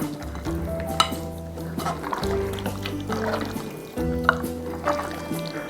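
Bare hands mixing pork ribs with black bean garlic sauce in a bowl, producing close wet squishing and sloshing sounds in uneven bursts, with a low hum underneath.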